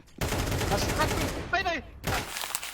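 Automatic gunfire in the video game Counter-Strike 2, rapid bursts of close shots across the clip, mixed with a player's voice talking over it.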